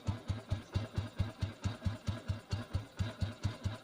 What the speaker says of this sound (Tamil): உங்களுக்கு ஜஸ்ட் சைலன்சர் பீட் மட்டும் தான் கேட்கும்